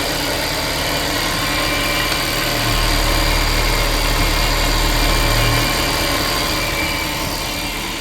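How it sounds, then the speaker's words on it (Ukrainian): A 2020 MAN TGE refrigerator van engine idles at a steady low rumble, close and continuous, with a slight rise in drone partway through and no voices. "Двигунчик працює ідеально ніде нічого без ніяких пошкоджень."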